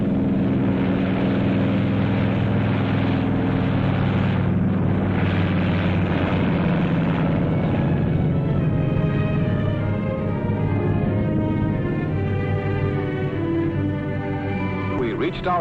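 Loud, steady drone of a 1950s TWA propeller airliner's engines climbing after takeoff, a dense continuous roar with a faint voice beneath it.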